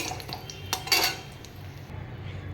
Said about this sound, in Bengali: এটাকে একটু নাড়াচাড়া করে নেব